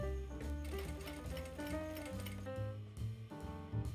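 A sewing machine stitches viscose fabric for a wide-leg jumpsuit with thin straps, running steadily and close up with a dense, continuous buzz and no talk.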